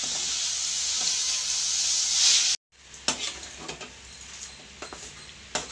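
Ginger paste sizzles in a hot cooking pan, a loud bright hiss for a couple of seconds, then after a brief cut a quieter crackle with scattered stirring scrapes and taps.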